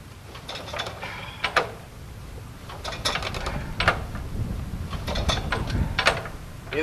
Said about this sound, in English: I'm getting too old for this hand cranking stuff too.